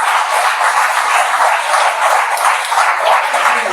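A hall audience bursts into sustained applause at a talk by a noted heart surgeon, dense steady clapping holding at an even, loud level throughout with no voices.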